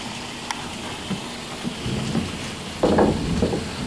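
Heavy rain pours steadily during a thunderstorm, with water washing dirt down a driveway into a river-like flow; the broadband hiss swells louder near the end, with no clear thunder crack standing out.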